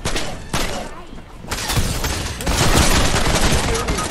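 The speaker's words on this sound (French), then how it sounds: "Il y a des tirs." Gunfire in a Fortnite match, dense overlapping shots and bursts crackling continuously and growing louder toward the end, mixed with game noise and no clear speech.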